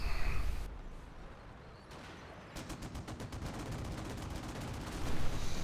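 Machine gun and quad-gun fire in a strategy war video game, a fast rattling stream of shots under a constant rumble of battle, moderately loud and steady across the clip.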